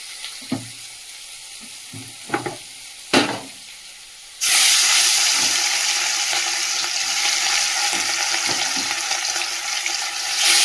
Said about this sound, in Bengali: ততক্ষণ ওইদিকে তেলটা গরম হয়ে গেছে, মাছটা ছেড়ে দেবো।